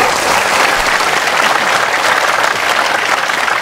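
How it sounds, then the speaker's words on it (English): Dense, steady applause from an audience at a retreat gathering in Hawaii, loud and continuous throughout with no breaks. "you don't have to always clap like this"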